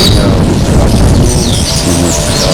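Many birds chirp and call together in a loud, dense morning chorus just outside windows, with high tweets layered over a constant background wash.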